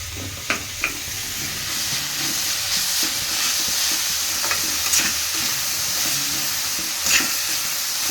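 Ginger frying and being stirred in a pan for puffed-rice upma, a continuous close sizzle with occasional sharp spatula scrapes and taps against the pan.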